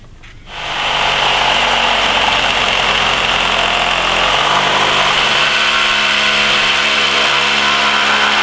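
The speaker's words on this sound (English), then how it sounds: "Now I have to cut the drain pipe" A power tool cuts through a plastic garden drain pipe, a loud steady motorized whine that starts abruptly after a quiet moment and runs on continuously near the listener, with no talk.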